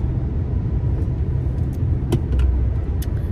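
A car drives along a road, giving a steady low engine and tyre rumble from inside the cabin with a few faint clicks and rattles over it; no talking.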